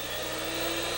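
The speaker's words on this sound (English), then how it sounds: "Listen carefully to the sound your drill doctor makes." A Drill Doctor Classic 400 bit sharpener grinds a drill bit with a steady, even whine and buzz, close and continuous with no voices.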